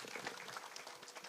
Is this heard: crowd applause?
yes